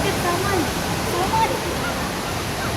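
Desert Falls waterfall rushes in a steady, loud wash of white noise close by, with no breaks for the whole stretch.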